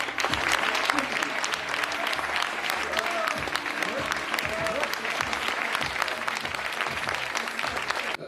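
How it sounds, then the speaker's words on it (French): An audience at a political event applauds Éric Zemmour, a dense, sustained burst of clapping with scattered cheers, loud and continuous throughout with voices mixed in underneath. "vous invite à applaudir Éric Zemmour"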